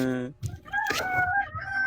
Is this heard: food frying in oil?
no